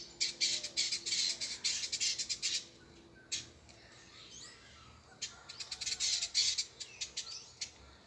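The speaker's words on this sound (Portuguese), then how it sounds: "Olha o canto da siriema, pessoal." A red-legged seriema calls near its grassland nests during the breeding season, giving two long series of loud, harsh, rapid squawking cries separated by a short quieter pause.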